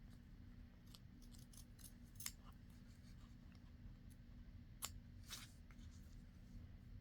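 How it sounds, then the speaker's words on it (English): Scissors make a handful of crisp snips as they trim paper for an envelope pocket journal insert, sharp isolated cuts spaced apart over a quiet low hum, close and unaccompanied by speech. "I think I'll just trim this down a little tiny bit more."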